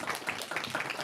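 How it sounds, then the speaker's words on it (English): A round of applause at an elementary school civic award ceremony, a brief, steady patter of many hands clapping at moderate distance, dense and continuous throughout. "Let's give Emilio a round of applause."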